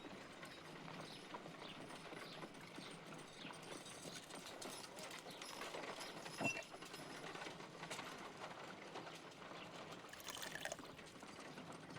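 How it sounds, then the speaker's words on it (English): Water pours into an ice knife mold in the Sherlock Holmes: Crimes and Punishments game, a faint, steady trickling and splashing with soft mechanical clinks underneath. "If I wish to shape the ice knife, then I need to pour water inside the mold."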